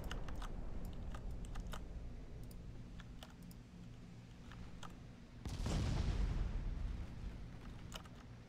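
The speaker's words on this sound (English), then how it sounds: "Did we just cook off one of the turrets? Yes, we did." A warship turret's ammunition cooks off in Ultimate Admiral: Dreadnoughts, a single muffled explosion with a deep rumbling tail, heard faintly after scattered clicks of keyboard typing.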